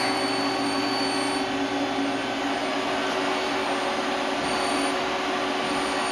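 A Citizen M20 CNC Swiss lathe running, giving a loud, steady mechanical whir and hum with sustained tonal whines and a dense noise bed throughout.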